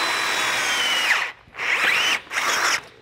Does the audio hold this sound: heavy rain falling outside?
no